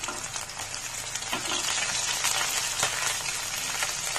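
Ginger and garlic sautéing in hot oil in a pan for a Malabar shark curry with roasted coconut, giving a steady, loud, crackling sizzle with scraping stirring strokes throughout and no talking.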